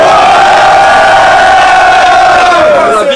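Loud crowd at a rap battle roaring and cheering together in a sustained wall of shouting, close and dense, fading slightly at the end.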